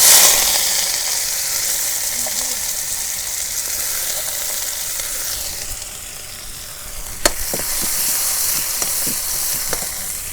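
Chopped onion sizzles steadily in a hot pan as the base for a Bangladeshi village-style egg curry, a continuous close frying hiss with a few sharp clicks of stirring near the end and no talk.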